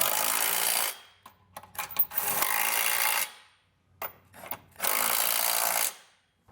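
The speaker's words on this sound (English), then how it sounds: "we can come back with the 3/4 inch socket and snug it all down" Two bursts of a socket tool snug down trailer hitch hardware on a 2023 Kia Carnival, each a loud whirring run of about two seconds, separated by quieter clicks and fitting noises.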